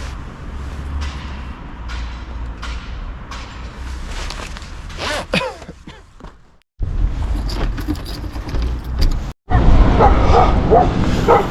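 A small dog barks in short yips outdoors during a bike outing, close and fairly loud, with some rustling and scraping handling noise and a brief dropout partway through.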